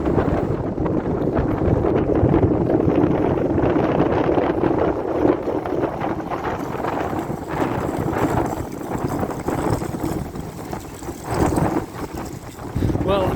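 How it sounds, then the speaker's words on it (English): Strong wind rushes past a moored boat, a loud steady blustery roar with gusts that rise and ease, and faint knocks and water noises underneath. "I think this wind's quite bad"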